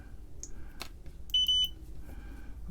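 A handheld multimeter set to continuity mode beeps during wire checks on a homebrew 1702 EPROM board for an Altair 8800, giving a short steady tone followed by a few brief chirps, close and fairly loud over a quiet room.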